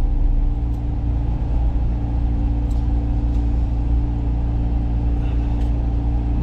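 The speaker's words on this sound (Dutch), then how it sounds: "Nu nog rustig parkeren en niet tegen een andere auto aanrijden." A car rolls slowly to a stop while being parked on arrival home, its low engine rumble steady and continuous with faint cabin noise and no voices.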